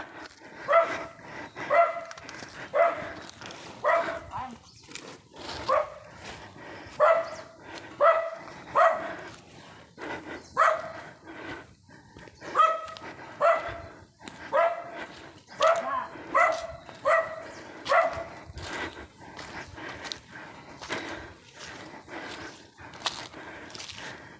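A dog barks repeatedly in a quiet hill village, with sharp, fairly close barks in irregular bursts and short pauses across the whole stretch.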